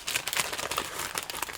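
Scraps of black paper crumpled by hand in a papercraft setting, a close, quiet run of dry crinkling and rustling bursts lasting under two seconds.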